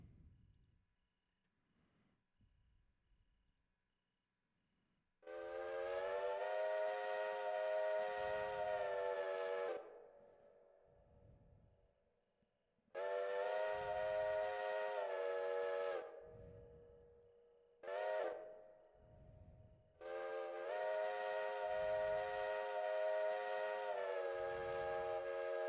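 A small steam locomotive in the Railroader train game sounds its whistle in several long blasts and one short toot, loud chords separated by quiet pauses, with faint chuffing and rolling in the gaps and no talking.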